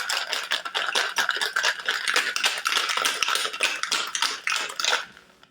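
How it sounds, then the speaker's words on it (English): Ice rattles rapidly inside a cocktail shaker mixing a lavender syrup martini, a dense rhythmic clatter of quick shakes lasting several seconds, close and fairly loud, then stopping. "So give it a good shake."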